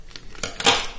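Scissors snip through a small strip of green paper during a crafts demonstration, a few short crisp cuts close to the microphone, with the loudest snip near the end.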